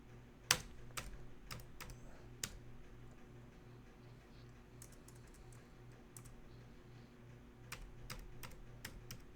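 Computer keyboard typing while naming an object during a Blender 2.83 modeling session: sparse, sharp key clicks in short bursts over a steady low electrical hum, close and fairly quiet.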